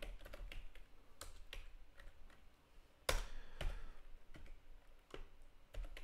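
Fingers type HTML on a computer keyboard in quick, irregular bursts of close, crisp key clicks, with a sharper cluster of heavier strokes midway and no talking.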